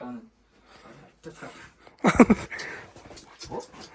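A dog pants and whimpers close by, with a few short bursts between people talking quietly nearby.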